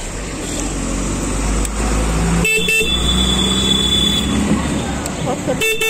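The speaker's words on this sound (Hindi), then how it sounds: "देखिए हॉर्न भी बज रहा है" A Royal Enfield Classic 350 motorcycle horn sounds a few times, loud and near, as steady beeps across the clip with a brief break partway through, sounding after a repair of the horn and indicators.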